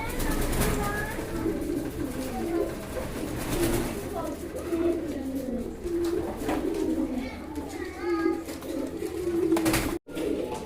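Pakistani high-flying pigeons at a pigeon market, cooing in low repeated phrases over a busy, noisy background with people talking nearby.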